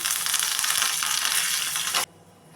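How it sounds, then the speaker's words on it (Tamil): Curry leaves drop into hot oil with already-popped mustard seeds for a spicy chutney tempering, making a loud, steady, close-up crackling sizzle that cuts off abruptly after about two seconds. "கடுகு பொரிஞ்சிருச்சு இந்த கருவேப்பிலை சேர்த்துருவோம்"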